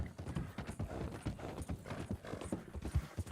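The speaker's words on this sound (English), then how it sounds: "This horse is not fast enough to escape the police." Horse hooves galloping in Red Dead Redemption 2 during a chase, a steady rapid clip-clop rhythm of hoofbeats, close and prominent throughout.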